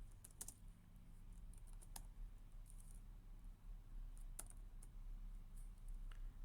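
Faint, sparse keystrokes on a computer keyboard sound as scattered soft clicks at close range over a quiet room hum, with no talking.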